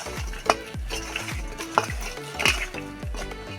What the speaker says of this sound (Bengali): আর দিয়ে দেবো একটু হলুদ, দিয়ে আমি কপিটা ভালো করে মাখিয়ে নেবো।